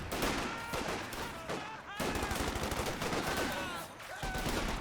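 A .50 cal machine gun in the video game Company of Heroes 2 rattles in dense, continuous bursts amid other battlefield gunfire, loud and busy with a slight pause midway.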